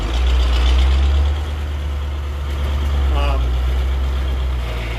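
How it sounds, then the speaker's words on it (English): A water truck's diesel engine runs steadily, rumbling at a low idle beside a roping arena, loudest early on before it settles into a constant drone. "Got the water truck going."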